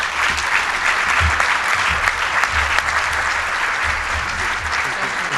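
An audience at a charity breakfast event applauds warmly, a dense, sustained clapping that holds steady and loud throughout.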